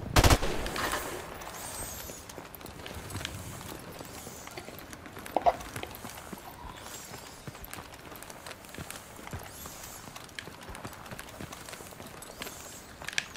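Gunfire from Call of Duty: Modern Warfare Remastered, with sharp bursts and scattered shots alongside footstep-like clatter, fairly quiet throughout, with one louder burst at the start and another midway.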